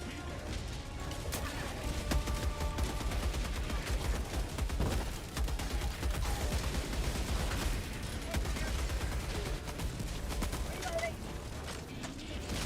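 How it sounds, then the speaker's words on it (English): Orbital barrage explosions boom in a video game, a dense continuous run of heavy blasts and gunfire-like cracks with voices talking over the din throughout. "Firing orbital barrage. Clear the area."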